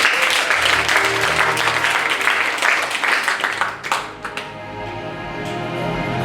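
A church congregation breaks into loud, sustained applause filling the room, then the clapping thins out and fades to a quieter murmur near the end.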